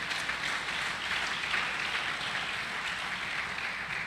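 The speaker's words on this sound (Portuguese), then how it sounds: "Você pode dar um aplauso a Jesus ou não?" A church congregation applauds during a worship service, a steady, dense wash of clapping that holds evenly for several seconds without any voices standing out.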